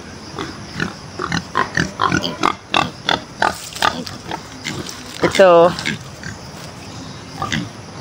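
Pigs on a farm at morning feeding time, including pregnant sows and young pigs around 15 kilos, grunting in rapid repeated bursts with a loud squeal midway, close by, with people talking at times.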